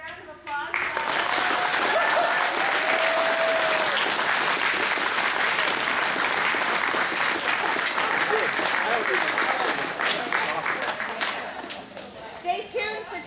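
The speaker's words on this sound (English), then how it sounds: "A big round of applause." A crowd applauding at a senior awards ceremony, sustained loud clapping that swells in quickly, holds for over ten seconds and then thins out into scattered claps, with some voices mixed in.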